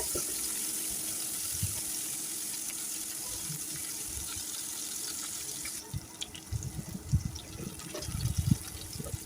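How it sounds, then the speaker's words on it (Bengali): Onions and green chilies fry in oil in a pan with a steady close hiss, which thins partway through as scattered louder pops and scraping knocks break in near the end. "তো পেঁয়াজটাকে আমি হালকা লালচা কালার করে ভেজে নেব যাতে কাঁচা কোনো গন্ধ না থাকে"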